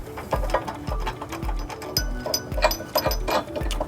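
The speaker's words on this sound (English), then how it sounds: "we need to go ahead and snug up these flange nuts with a 19mm socket and extension" A ratchet with a 19mm socket on an extension snugs flange nuts on a trailer hitch under a 2004 Buick Rendezvous, giving rapid rhythmic clicking in repeated close strokes.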